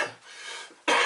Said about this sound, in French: je tousse en ce moment